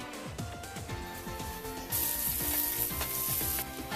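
Orange zest sizzles in a teaspoon of oil in a large non-stick skillet over medium heat, a steady close frying hiss with repeated light scraping strokes, the sizzle swelling louder partway through.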